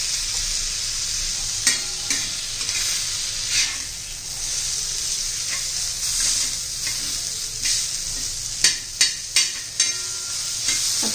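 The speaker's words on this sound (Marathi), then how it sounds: "कैरी घातल्यावर जास्त वेळ नाही आपल्याला भाजायचं आहे" Raw mango pieces fry and sizzle in a pan for a chutney, a steady hiss broken by a few louder stirring scrapes and clinks, close and continuous with no voices.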